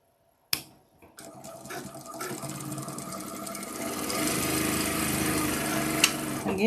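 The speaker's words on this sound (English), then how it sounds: "So I'm going to sew all of these together just like this." A sewing machine stitches fabric pieces together with a lock stitch, starting with a sharp click, then a steady rapid whirring hum that builds in speed and loudness, close up, with no talking.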